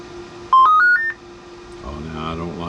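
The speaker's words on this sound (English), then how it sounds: "I had to get rid of that damn beep." A CB radio gives off a quick rising series of electronic beep tones, loud and close, followed by a low hum and faint voices.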